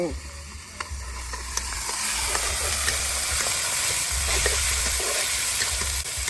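Thai basil stir-fry with beans sizzling steadily in a hot pan, a continuous hiss with occasional stirring clinks, close and moderately loud.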